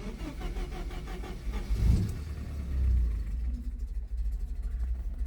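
A 1983 Porsche 944 with a fuel pump that only works while cranking catches after a burst of starter cranking, then settles into a rough, steady idle close by, with a couple of swells in engine noise and no talk.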